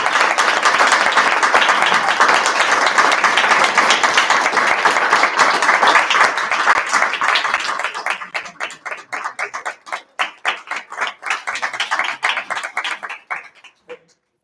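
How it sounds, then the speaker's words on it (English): An audience gives loud, dense applause that holds steady, then thins into scattered individual claps before dying out. "Clap more."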